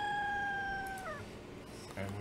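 A cat meows in the Cat Café Manager video game, a single drawn-out meow that bends downward near the end, followed by faint low background sounds.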